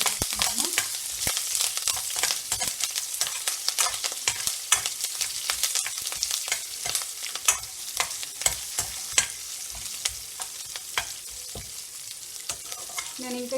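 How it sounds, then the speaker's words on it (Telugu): Ginger, green chilli and curry leaves fry steadily in a pan, a dense continuous sizzle broken by frequent sharp scrapes and clicks of a spoon stirring, close and fairly loud throughout. "ఇప్పుడు దీంట్లో నేను ginger and green chilli curry leaves వేస్తున్నాను. ఇది కూడా కొంచెం ఫ్రై చేస్తున్నాము"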